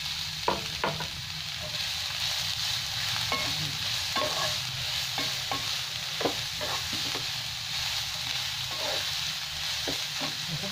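Carrots sizzling in melted ghee for Bengali gajorer halwa, a steady even frying hiss with scattered crackles and light stirring scrapes throughout, close and moderately loud, no talk.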